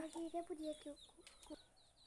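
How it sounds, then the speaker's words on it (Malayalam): Chickens clucking in short, choppy bursts close by, with a few higher calls mixed in, fairly quiet overall. "ഇവിടെ കോഴിയൊക്കെ ഉണ്ട് കേട്ടോ"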